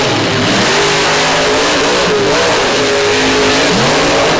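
A big monster truck engine revs hard and loud throughout a live monster truck show, a steady roar with rising and falling pitch and no voices.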